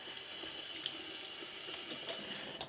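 A faucet runs steadily as dyed embroidery floss is rinsed under it, a continuous soft splashing hiss with small spatter accents, fairly quiet and close, no talking.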